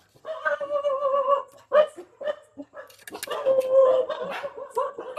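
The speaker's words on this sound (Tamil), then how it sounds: "தெருவில் உள்ள நாய்களும் சரி, நம்ம வீட்டில் உள்ள நாய்களும் சரி சத்தம் போட ஆரம்பிச்சிட்டு" Street dogs and house dogs bark at night around midnight, a mix of irregular barks, yips and whimpering whines coming in uneven bursts, fairly close and with no clear talk.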